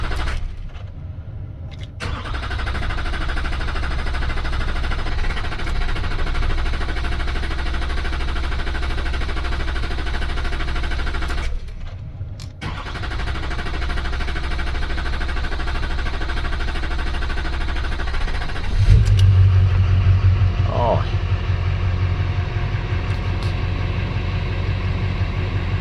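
A Duramax diesel engine cranks and catches, then settles into a steady, loud, low idle; the drone briefly dips and resumes, and a rougher surge follows later before the idle evens out again.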